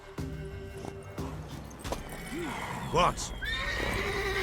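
In The Witcher video game, a horse whinnies loudly in a rising, wavering neigh partway through. Soft hoof clops and a voiced line from a character come before it, and game ambience continues underneath.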